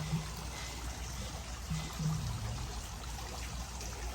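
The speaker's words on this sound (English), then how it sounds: "there's also a water flow from here." Water flows steadily through a bell siphon drain in a crayfish pond, a continuous trickling and rushing wash with faint gurgles, close and unbroken throughout.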